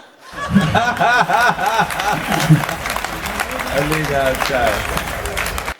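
A live Hindi comedy and satirical poetry audience laughs and claps in a loud, continuous burst of crowd noise, with chuckles and cheering mixed into the applause.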